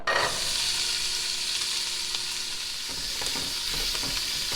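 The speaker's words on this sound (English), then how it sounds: "I'm going to saute these and cook them down until they're soft and translucent" A mirepoix of chopped celery, onions and carrots sautés in a hot pan, giving a loud, continuous close-up sizzle that starts abruptly and carries on steadily, with occasional soft stirring scrapes.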